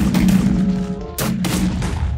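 Cannon turret blasts in Minecraft, a few rapid booming shots with a steady low hum underneath, the loudest sharp burst coming just past the middle, moderately loud and close.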